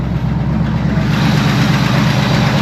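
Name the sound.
Pontiac Grand LeMans engine idling a bit high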